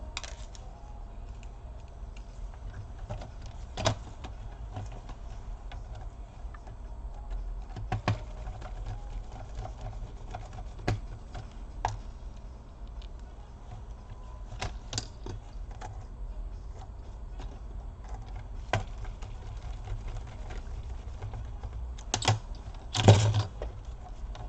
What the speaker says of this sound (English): You should hear the clicking sounds when both of the sides are